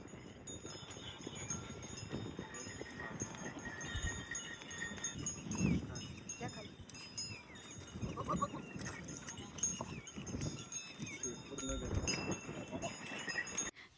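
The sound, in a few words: goats and cows passing with neck bells ringing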